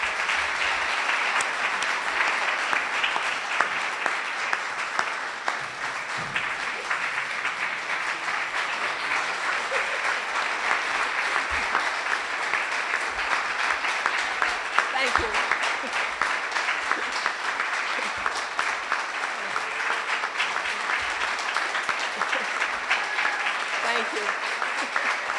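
Sustained applause from a large audience at a service and retirement awards ceremony, steady and dense for the whole stretch, with no voices rising above the clapping.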